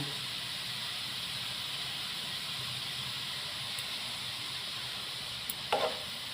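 Grated carrot frying in ghee in a small kadai for gajar halwa, a soft, steady hiss at low level with one brief scrape near the end, no voices.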